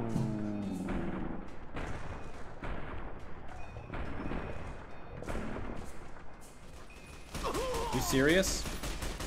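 Gunfire in the video game Fallout: New Vegas: repeated loud booming shots in quick bursts with rumbling impacts, mixed with game noise and a speaking voice.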